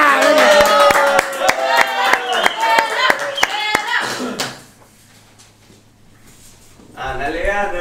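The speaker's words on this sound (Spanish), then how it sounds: "vamos a recibir con un fuerte aplauso" Sharp, evenly spaced claps ring out under a lively voice on a comedy show's stage, then fade to near silence before talking resumes.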